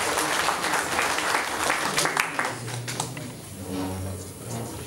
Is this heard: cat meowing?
no